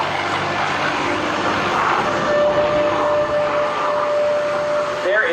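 A small aerobatic airshow plane about three quarters the size of a P-51 Mustang roars overhead as it pulls straight up, a loud continuous engine drone with a rising whine over crowd noise.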